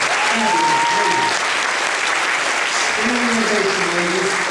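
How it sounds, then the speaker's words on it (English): A convention audience gives loud, sustained applause for guest actresses at a Q&A session, a dense continuous wash of clapping with voices calling out beneath it. "would you join me in a super duper round of applause for the first fabulous, ladies"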